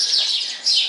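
Birds chirp in early spring, a continuous high, bright twittering that is loud and close, with no voices.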